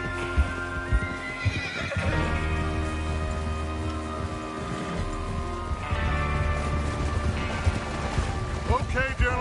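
Horses in the Red Dead Redemption 2 video game whinny and neigh over a steady clip-clop of hooves, set against a continuous game soundscape.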